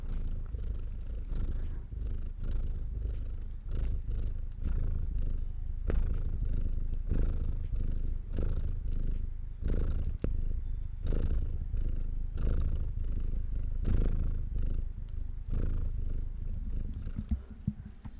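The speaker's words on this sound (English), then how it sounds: "Do you hear him purring?" A cat purring close up, a low continuous rumble pulsing in a slow steady rhythm with no other sounds.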